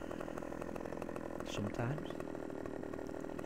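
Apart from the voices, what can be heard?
chainsaw cutting wood in Farming Simulator 15 video game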